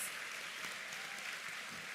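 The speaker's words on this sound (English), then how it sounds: "Let's give them a big round of applause." Steady applause from a crowd at an awards ceremony, even and sustained, heard at a distance and fairly quiet.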